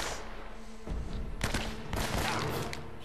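Shotgun gunfire in the video game Uncharted: Drake's Fortune, several heavy bursts of firing over a busy game background, loud and close.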